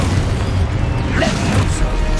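Thumping, booming impacts of the Expulso explosion spell in Hogwarts Legacy burst against a dense, continuous game soundscape, loud and close throughout.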